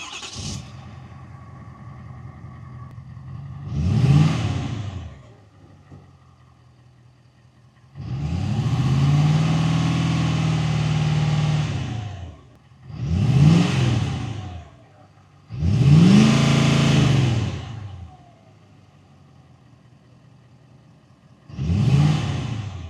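A 2017-or-later Ford Super Duty Powerstroke diesel truck with a CJC Banks Trophy DPF-back exhaust revs five times, each burst deep and fairly loud. Between the revs the truck settles back to a steady idle, and no one speaks.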